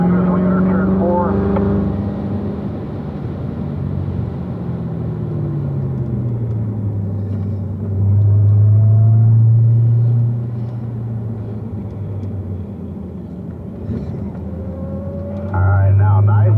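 A car accelerates out of a corner on the Spring Mountain race track, its engine droning steadily and then swelling louder before settling, with a driving instructor talking over it throughout.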